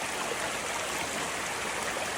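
Constant rushing of a waterfall stream in a forest near Nakhon Nayok, Thailand, a dense even roar filling the whole stretch with no voices.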